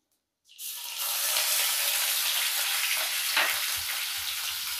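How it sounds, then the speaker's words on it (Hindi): After a brief silence, a loud, steady sizzle bursts up as crushed onion hits hot oil, continuing as a bright frying hiss with a few soft stirring knocks. "इसे डालने के बाद प्याज जो क्रश किया हुआ है उसे डाल देते हैं"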